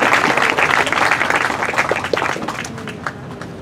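A concert audience breaks into loud applause, dense clapping that gradually thins and fades over a few seconds, with scattered crowd noise and no talk.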